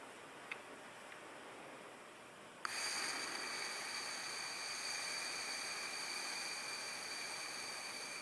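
Air blown through a beginner band instrument mouthpiece on the lips: a soft breathy hiss, then a steady, slightly buzzy pitched tone that starts abruptly and holds to the end, fairly quiet and with no talking.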